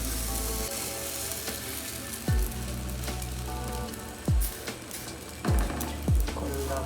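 A tortilla fries in a little oil in a non-stick skillet, giving a continuous close sizzle with a few soft handling knocks and brief low thumps scattered through it.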